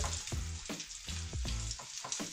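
Rösti potato cakes fry in an overcrowded pan, a steady loud sizzle with rhythmic scraping and pressing strokes about every half second.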